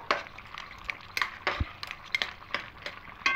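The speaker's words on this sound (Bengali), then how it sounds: "এবার ঢাকাটা খুলে নেব" A lid comes off a pot of boiled potatoes amid a run of light metallic clinks and taps, close and moderately quiet, with no one speaking.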